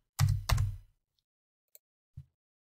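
Two solid keystroke taps on a computer keyboard while entering figures into an Excel chart, followed by a couple of faint, isolated clicks, close by with no talking.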